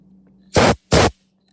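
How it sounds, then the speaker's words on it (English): Canned air blasts into the flint tube of an unmarked aluminum block petrol lighter in two short, close, loud hissing bursts separated by a brief pause, with no talking. "Get our canned air."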